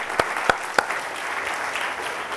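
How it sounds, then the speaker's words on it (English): Scattered light applause from a small tech-talk audience after a browser dance party demo, a few distinct loud claps at the start fading into a soft, thin patter. "Give yourselves a round of applause for your participation."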